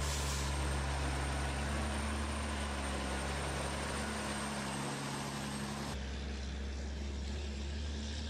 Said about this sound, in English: These trucks are overbuilt and overpowered, ready to handle the demanding challenges of the forestry industry.